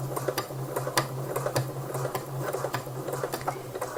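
Sewing machine running a seam through lining fabric, a steady motor hum under a quick regular ticking of the needle, close and moderately quiet, with no one talking.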